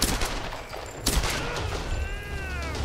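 Gunfire in the Tomb Raider video game, a burst of dense shots with a sharp report near the middle, loud and busy against other game sounds, with no talk.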